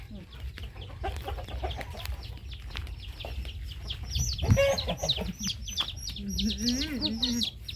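Chickens, including black chicks, cluck and chirp around a home yard, with repeated short calls and higher peeps over steady background noise and occasional voices nearby.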